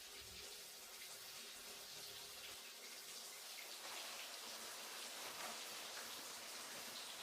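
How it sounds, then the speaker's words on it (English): A shower running steadily, a faint continuous hiss of spraying water that swells slightly partway through, with no voices. "I'm taking a shower"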